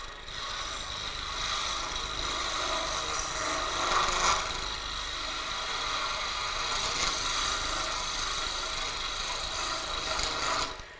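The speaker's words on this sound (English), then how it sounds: "by scraping back and forth, you come up with a pretty smooth and basically flat edge" A huge skew chisel scrapes wood back and forth on a spinning lathe, a steady, close, hissing rasp that runs unbroken throughout, with slight swells in loudness.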